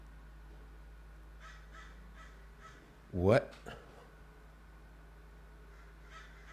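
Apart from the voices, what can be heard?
crows cawing outside window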